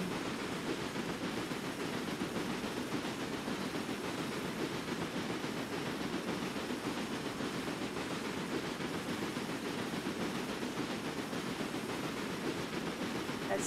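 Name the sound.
train running in the video game Railway Empire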